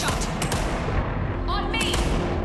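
Gunshots ring out in Vampire the Masquerade Bloodlines 2, several sharp cracks spread across a busy game soundscape, with voices calling out between them.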